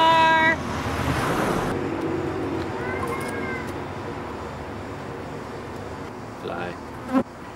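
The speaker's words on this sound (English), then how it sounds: "Fly." A fly buzzes with a brief, bright nasal drone near the start, followed by a softer, continuous hum that fades into a quiet hiss, ending with a small, sharp knock.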